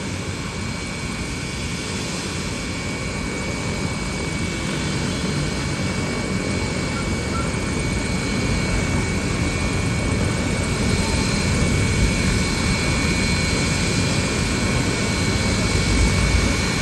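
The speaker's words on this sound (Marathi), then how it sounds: "हेलिकॉप्टरमध्ये बसून राईड एन्जॉय करत आहेत" A helicopter running for customer joy rides, a loud, steady, close turbine roar with constant rotor churn that holds for the whole stretch, no talk.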